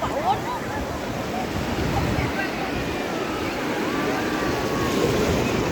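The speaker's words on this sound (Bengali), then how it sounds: "বাবু ঢেউটা আস্তে আস্তে জোরেই হচ্ছে না রে।" Sea waves wash steadily onto the beach at Digha, a continuous broad roar of surf with wind buffeting the microphone and faint voices in the background.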